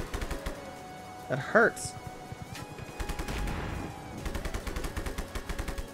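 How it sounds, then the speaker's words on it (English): Enemy gunfire in Just Cause 3 sounds as rapid bursts of shots, then more steady rattling volleys late on, with someone talking briefly over the shooting. "Stop shooting me, dummy!"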